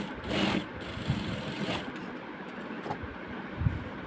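A sewing machine runs in a continuous whirring drone as it stitches lace onto a blouse neckline, with a few soft knocks and shifts of the fabric along the way.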